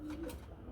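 A pair of domestic pigeons gives a single brief, soft, low coo, faint and close, with no talk.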